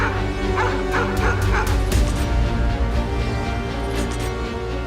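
Several dogs at the Mauthausen concentration camp bark and yip repeatedly in short overlapping bursts over a steady low rumble, loud and close throughout, with occasional whimpering.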